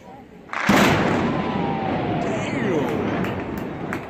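Demolition blast on a 93-year-old bridge with structural problems in Little Rock. A sudden heavy boom after half a second rolls into a sustained rumble, and a narrator's voice continues over it.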